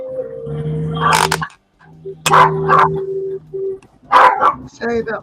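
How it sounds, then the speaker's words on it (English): A pet dog barks and yips in a home, several sharp close barks in short bursts with brief whimpering tones, mixed with people talking over it. "Sorry about my dog."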